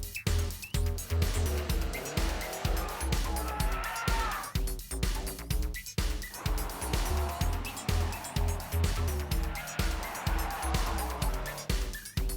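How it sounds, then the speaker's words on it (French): A 2011 Subaru WRX STI being driven, its engine note a steady, fairly loud drone from inside the car with rhythmic bumps and clatter throughout. "Me voilà au volant de la Subaru WRX STI 2011"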